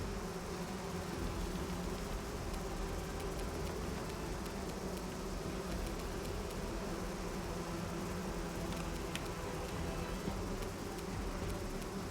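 Dense, droning buzz of a huge swarm of angry bees in the Pathfinder: Wrath of the Righteous video game, a constant hiss-like hum with no break, steady and fairly quiet.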